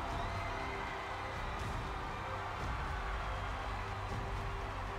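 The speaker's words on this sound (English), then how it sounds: "The crowd is going nuts right now." A large America's Got Talent audience cheers and roars in a steady, dense wash of crowd noise that holds at an even level throughout, with no clear single voice standing out.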